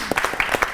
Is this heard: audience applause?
yes